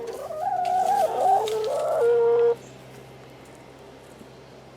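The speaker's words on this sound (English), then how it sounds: "these chickens" Backyard chickens in a chicken run clucking and calling close by, a busy burst of hen vocalizations for a couple of seconds that stops abruptly, leaving quiet background.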